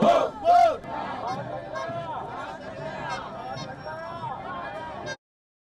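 A large crowd of protesters at a mass agitation in Colombo chants and shouts continuously, with loud rhythmic cries rising at the start and a steady babble of many voices throughout.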